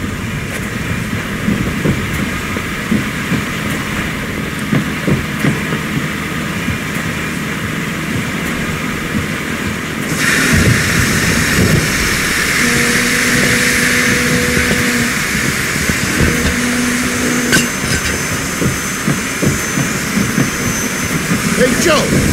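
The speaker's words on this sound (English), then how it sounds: "Okay, I'm gonna go start up the train." A train starting up in the video game Mafia 2 makes a heavy, steady engine rumble that swells louder about halfway through, with a continuous mechanical roar and occasional tonal hums.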